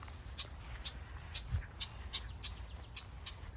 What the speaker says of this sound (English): There's lots of birds up in the tree.